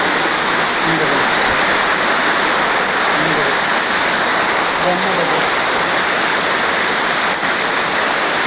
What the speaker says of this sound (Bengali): বৃষ্টি কী বৃষ্টি হচ্ছে